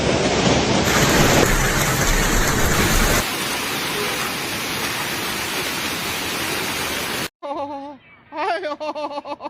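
Hailstorm pounding down in Guiyang, Guizhou, China, a loud dense roar of hailstones hitting for several seconds, then a sudden cut to people exclaiming and laughing over a quieter background.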